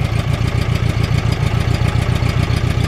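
Zaporozhets ZAZ 968A engine running steadily in a shed, a close, loud, rhythmic low pulsing idle with even beats throughout and no talk.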